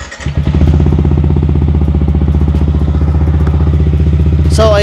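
A Yamaha MT15 motorcycle fitted with a replica Pro Pipe exhaust fires up and settles into a loud, close idle, a rapid throbbing exhaust pulse that stays steady for several seconds.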